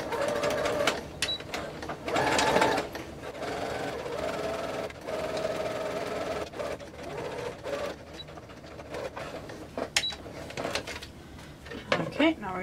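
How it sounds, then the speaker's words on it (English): A sewing machine stitches straight along a zipper edge on fabric while a multi-pocket bag is made, giving a steady close mechanical whir throughout with scattered light clicks and knocks, and a voice can be heard at times. "And you can go ahead and sew straight along that."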